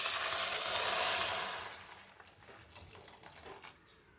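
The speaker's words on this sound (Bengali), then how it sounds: "এবার এই যে চিকেন স্টকটা রেখেছিলাম এটা দিয়ে দিচ্ছি।" Chicken stock poured into a pan of vegetables for chicken vegetable soup, a rushing, splashing pour for about a second and a half that fades into quiet bubbling and faint clinks.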